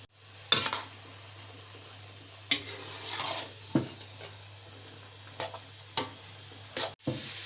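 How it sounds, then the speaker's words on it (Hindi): Carrot halwa roasts in ghee in a pan while a spoon scrapes and stirs it, giving intermittent scraping strokes every second or two over a soft, low sizzle, with no voices. "अब मैं इसको भूनूंगी,"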